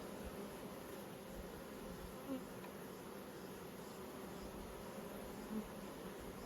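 Honey bees hum around nucleus hives at an apiary site in Nymboida, a soft continuous buzzing drone with a couple of individual bees briefly passing closer to the microphone.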